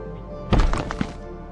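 A single muffled TNT blast thumps in a terraforming colony-builder game as mountains are blown up, a short low boom rising from a steady hum and fading over about a second.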